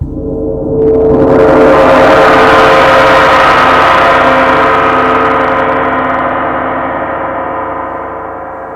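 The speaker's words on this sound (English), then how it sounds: "Beautiful gong." A large Paiste bronze gong is struck once, blooming into a loud, shimmering wash that sustains and slowly fades.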